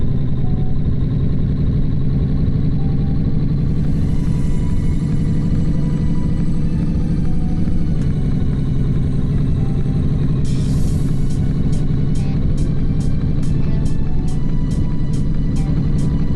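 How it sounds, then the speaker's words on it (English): A VW Caddy fitted with a bus engine drives along in the game A Long Road, giving a loud, continuous low engine rumble with a faint rhythmic ticking toward the end. "I tested the bus engine with a normal sized vehicle"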